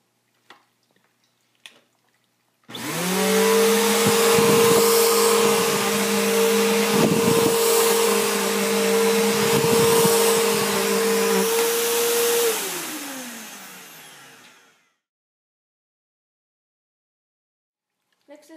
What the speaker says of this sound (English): First is the Bissell. I'm going to test those vacuums 3 times.